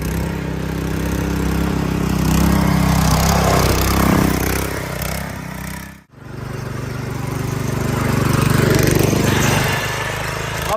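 Motorcycle-based power weeder fitted with 32 blades, running outdoors on hard ground, its engine droning loudly and steadily with a brief cut-out midway before resuming.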